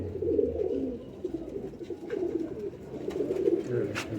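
Laakhe breed pigeons coo in low, repeated soft throaty phrases close by, with faint scattered clicks and rustles around them and no clear talk.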